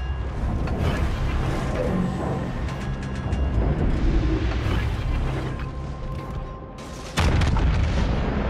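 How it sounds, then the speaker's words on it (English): An enemy destroyer explodes in World of Warships: Legends with a heavy, rumbling boom amid a dense mix of naval battle noise, ending in a sudden loud burst near the close. "Enemy destroyer blown up."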